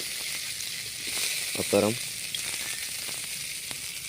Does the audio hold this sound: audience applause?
no